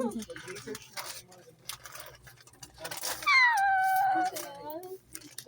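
A cat gives one long, drawn-out meow that rises and then falls, preceded by muffled talking and background shuffling nearby.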